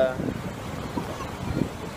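Ocean waves hit rocks at Venice Beach as a brief, steady roar of surf mixed with wind noise on the microphone.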